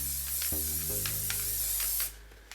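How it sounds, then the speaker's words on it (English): A steady, loud hiss of an aerosol can of spray adhesive held close, spraying continuously for about two seconds before stopping. "So I'm just going to spray it really good."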